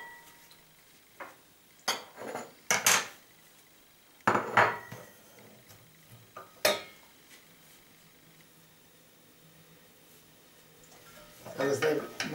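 Stirring onions in olive oil in a pan, scattered metallic clinks and scrapes of a utensil against the pan with quiet gaps between, ending in a brief cluster of clatters; talk occurs nearby.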